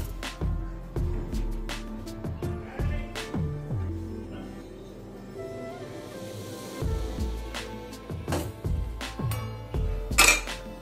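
A spoon clinks and scrapes repeatedly against a metal pan while white sauce of roasted flour and milk is stirred over a gas flame, producing close, irregular metallic knocks and rings with short pauses between them.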